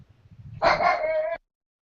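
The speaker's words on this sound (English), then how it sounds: "my dogs are going fucking ape shit right now" A single dog gives one drawn-out bark or yelp, loud and close, after a few faint low thumps and before sudden silence.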